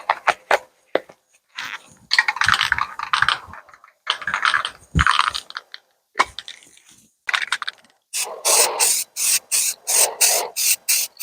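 Touch-up paint hisses from a spray can onto a car bumper in short light bursts, irregular at first and then a quick run of evenly spaced sprays near the end, with no talk.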